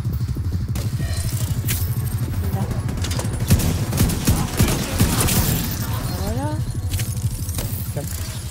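Rapid bursts of gunfire crackle over a dense, busy soundscape in the video game The Division 2, with continuous rattling shots and a few louder cracks.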